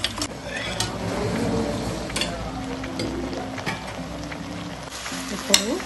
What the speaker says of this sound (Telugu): ఇది కొంచెం వేగనిద్దాం